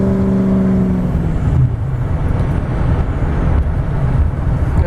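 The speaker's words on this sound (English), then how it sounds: "Love that exhaust tone." Exhaust from a 2004 Ford F350 Harley-Davidson Edition pickup with performance modifications: a loud, close, continuous deep rumble that surges slightly while driving, with no talk over it.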